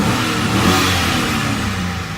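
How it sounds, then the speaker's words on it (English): The 5.3-liter LM7 engine of a Sierra 1500 revs loud and close, a sustained rising and falling roar with no other sounds over it. "Let's give it a couple of revs,"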